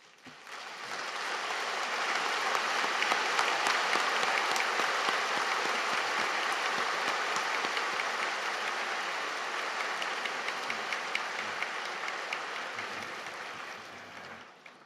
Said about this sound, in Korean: 우리 일어나서 인사할 때 우리 격려의 박수를 보내겠습니다.